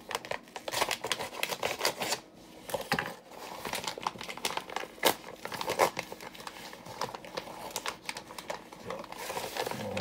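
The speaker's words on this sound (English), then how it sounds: "I gotta cut this with the knife back here." A knife slices and tears open a plastic package of mythical meats during an unboxing, giving close, repeated crinkling, ripping and scraping bursts with no voices.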